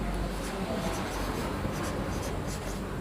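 A biology teacher writes a scientific name on a board, a continuous close scratching stroke over a steady, noisy background with no speech.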